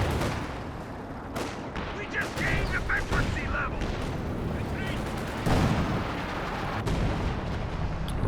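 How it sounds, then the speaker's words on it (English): Artillery barrage in a Company of Heroes 2 4v4 battle, with repeated booming impacts and crackling gunfire spread across a dense, continuous wall of battlefield noise, under occasional talk. "Got some artillery coming down over here"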